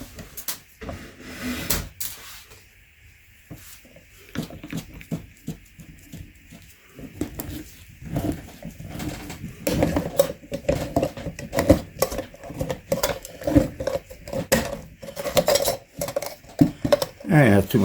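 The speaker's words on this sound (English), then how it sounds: "let's open this filter up and see what it looks like" A used Pronto PO195 oil filter from a 2008 Mercury Sable 3.5L V6 is cut open with scattered metallic clinks and scraping clatter. The noise starts quiet and grows busier and louder toward the end.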